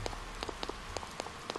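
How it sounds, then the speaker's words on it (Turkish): Rain falling in the video game Persona 4, a steady hiss with scattered light drops pattering on a surface, constant and moderately loud, no voices. "Yağmurlu bir gündeyiz."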